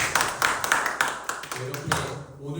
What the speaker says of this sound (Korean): 한 번 더 큰 박수